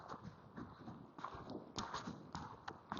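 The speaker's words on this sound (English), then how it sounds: "I'm going to ask for the canter" Hooves of a Kentucky Mountain Horse in a quick, irregular clip-clop rhythm on ground as it moves into a canter, fairly faint and distant.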